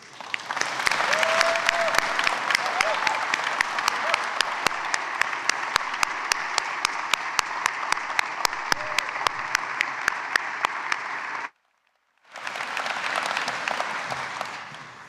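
An audience at Richmond's 2023 State of the City address applauds city employees, sustained dense clapping from a large crowd that breaks off briefly near the end and then resumes.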